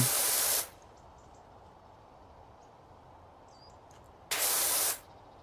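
The pressure washer in Powerwash Simulator 2 lets out two loud, hissing bursts of spray, one at the start and one near the end, with quiet ambience and faint chirps in between.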